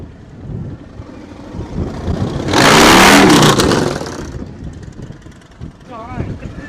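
Engine of a custom-built bagger motorcycle revving while ridden, a rising roar that holds loud for about two seconds and then falls away, with people talking around it.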